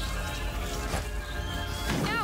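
A horse in the video game A Plague Tale: Innocence whinnies amid loud game sound and clattering, with a rising-and-falling neigh near the end, dense and mixed under other noise.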